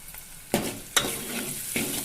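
Turmeric is stirred into a frying tomato mixture in a pan: a soft, close sizzle broken by a few sharp clacks of the spoon against the pan.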